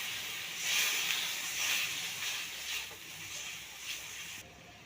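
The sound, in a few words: paneer with its soaking water added to fried spice paste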